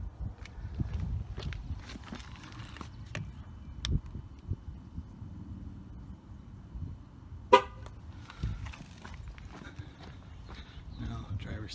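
A GM car's horn gives a brief honk partway through TPMS sensor programming, heard over a background of footsteps, clicks and low handling noise, with someone talking at times.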